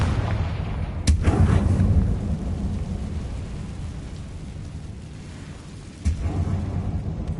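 Spell explosions from the Confringo fire spell in the Hogwarts Legacy video game: two sharp blasts, one early and one near the end, each followed by a rumbling tail over a constant low roar.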